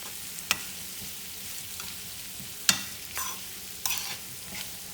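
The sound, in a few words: stirring seasoned Brussels sprouts to coat them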